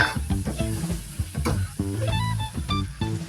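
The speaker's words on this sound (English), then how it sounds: "Continue stirring to prevent sticking to the pan." Pork ribs and asparagus stirred in soy sauce in a pan, with close sizzling and a run of quick scrapes and clatters from a utensil against the pan.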